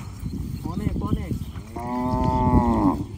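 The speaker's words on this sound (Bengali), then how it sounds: "আরে অনেক গরু তো" Cattle grazing on a Jamuna river char low loudly and close, first in short broken calls, then in one long sustained moo that swells and fades, with no talk.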